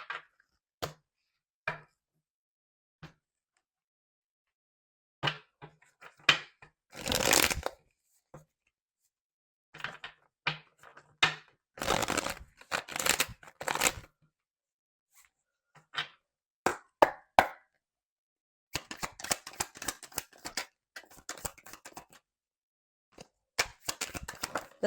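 A tarot deck handled and shuffled up close in a card-reading session, with scattered taps, sharp slaps and dense flurries of papery riffling in irregular bursts separated by brief silences, with no voices.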